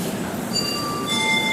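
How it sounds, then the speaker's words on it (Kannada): A train passes through a railway station, a close steady rolling rush with thin metallic wheel squeals ringing out over it. "ಇದ್ಯಾವುದೋ ಟ್ರೈನು ಹೋಗ್ತಾ ಇದೆ."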